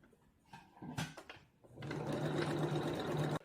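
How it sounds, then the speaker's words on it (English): Home sewing machine running a stretch stitch along a half-inch seam on a sweat bra, steady continuous whir after a few brief handling clicks and knocks, close and fairly loud. "so now that we've got the front pinned on, we are going to sew"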